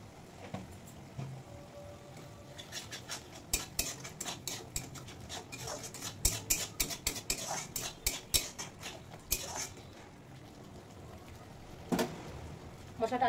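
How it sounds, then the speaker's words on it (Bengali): Spoon scraping and clinking in a pan as ginger paste, coriander powder and sugar are fried and stirred for malai chicken, with irregular metallic taps and scrapes over faint background noise. "মশলাটা আরেকটু ভেজে নেব।"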